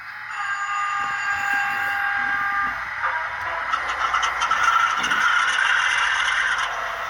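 A Scaletrains C40-9 model locomotive runs its start-up sound sequence, a steady electronic engine hum and scrape that swells and gets busier after a few seconds and then holds at a constant level.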